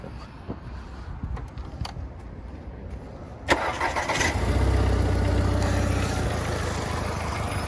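An Audi car engine cranks briefly with a sharp click, then catches and settles into a loud, steady, rumbling idle close by, with no voices.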